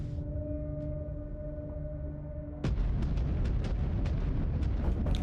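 Artillery strikes in a video game: after a steady mechanical hum, a heavy booming barrage starts, with repeated explosions landing in quick irregular succession, loud and rumbling.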